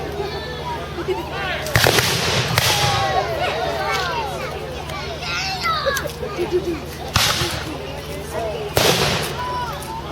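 Sharp, booming cannon shots from artillery at a Defenders Day battle reenactment, with three loud, separate reports standing out over steady outdoor crowd noise and voices talking.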